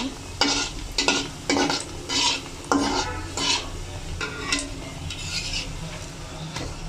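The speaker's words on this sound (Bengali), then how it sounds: "এইভাবে আর একটা দিয়ে দিলাম, উল্টিয়ে পাল্টিয়ে ভেজে নেব।" Potato mini mughlai fries in hot oil, a constant sizzle broken by a run of loud scraping, stirring strokes of a utensil against the pan, close by and with no one talking.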